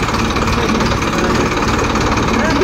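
Tractor engine running steadily with a heavy, throbbing low rumble and rattling mechanical vibration throughout, loud and close, carrying around ten to twelve people toward a dangerous area at night.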